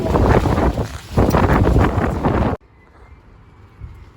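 Strong gusts of wind buffet the microphone on an allotment, a loud roaring rumble for over two seconds before cutting off abruptly to near quiet.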